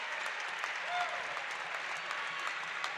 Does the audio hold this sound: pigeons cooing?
no